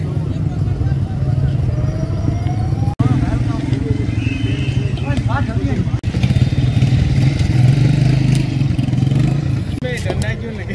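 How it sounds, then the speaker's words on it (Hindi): Several motorcycles of a bikers' rally rumble and rev nearby at a festival in a steady, loud drone, with a crowd murmuring and chattering in the background. "बाइकर्स रैली भी आ गई है"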